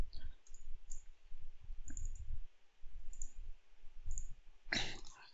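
A computer mouse clicks while someone works in Siemens NX sheet-metal CAD software: a few sparse, light, close clicks over quiet background, ending with one sharper, louder click.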